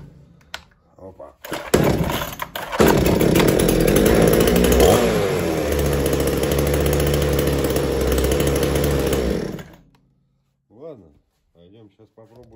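A Makita petrol chainsaw runs loud and steady for about seven seconds, with its engine note shifting slightly mid-run, before it cuts off; a voice speaks briefly before and after.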